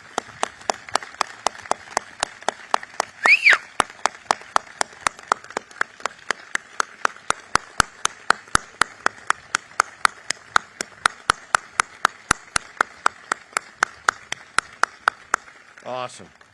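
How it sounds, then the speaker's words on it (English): A small audience gives a round of applause at a military change of command ceremony, with sparse, evenly spaced individual claps ringing out steadily for about sixteen seconds, fairly close and distinct rather than a dense roar. "please join me in a giant round of applause for Stephanie"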